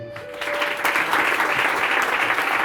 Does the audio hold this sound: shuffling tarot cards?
no